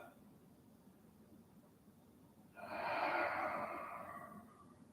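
A single deep exhalation during a yoga session, a soft airy rush that swells and fades over about two seconds after quiet room tone, close and gentle.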